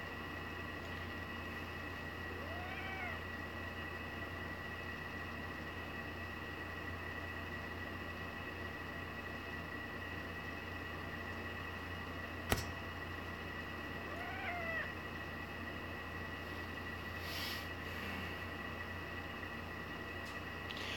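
A cat meows a few times, short rising calls spaced several seconds apart against a constant electrical hum in a room, with one sharp click partway through.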